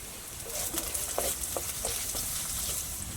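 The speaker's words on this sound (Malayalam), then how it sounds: "ശകലം കരിവേപ്പില ഇത് നല്ലോണം നമുക്ക് വഴറ്റിയെടുക്കാം" Shallots, green chillies and curry leaves sauté in a pan with a bright, steady sizzle, punctuated by several light taps and scrapes of a spoon stirring, close and continuous, no talking.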